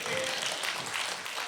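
Audience applause at a stand-up comedy show, a steady wash of clapping from a crowd, moderately distant and even throughout the short stretch.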